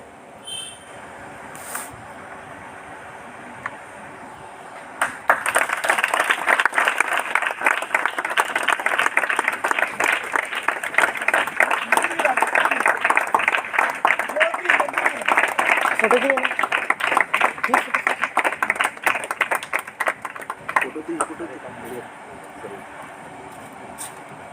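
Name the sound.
congregation clapping applause at church service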